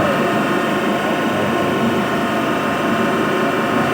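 Tea factory processing machinery running, a continuous dense mechanical clatter and grinding rattle, loud and close, with no break across the whole stretch.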